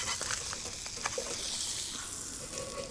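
Blackened redfish fillet frying in a hot pan, a steady close sizzle and crackle running throughout with faint scraping, no voices.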